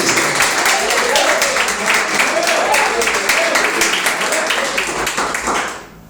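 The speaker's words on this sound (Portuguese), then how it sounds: "Palmas para Jesus." A church congregation claps steadily and continuously, a dense patter of applause with voices mixed in, fading out at the end.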